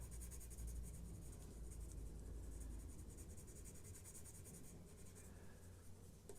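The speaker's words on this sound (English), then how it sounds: "I'm literally still using the flat of the pencil" Pencil shading on paper with the flat of the graphite, a soft continuous scratchy rasp of steady strokes, close and quiet, with no talk.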